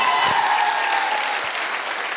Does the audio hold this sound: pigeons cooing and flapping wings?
no